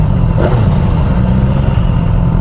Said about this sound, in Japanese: 3000回転までは吹き上がるんですけど、そこからが止まりますね